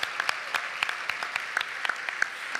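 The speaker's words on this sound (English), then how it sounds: "Let's give them a round of applause." Audience applause at an environmental council's 50th anniversary dinner in a packed room, a steady burst of many hands clapping with sharp individual claps standing out, no voices over it.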